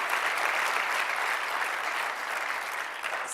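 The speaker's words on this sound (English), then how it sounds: "Let's give a round of applause." An audience at a TEDx event applauding, a dense, even wash of clapping hands that holds steady and loud for the whole stretch without a break.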